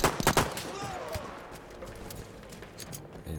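Rapid gunfire in a World War I-era shooter battle with an MP18 and a pistol, a burst of sharp close shots at the start giving way to scattered distant cracks over a dense, continuous battlefield din.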